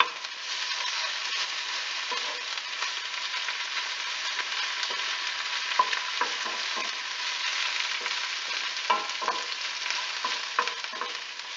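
Spinach sizzling in a pan after salty prosciutto has been added, a steady hiss of frying with occasional light stirring clicks and scrapes, moderately loud and free of speech.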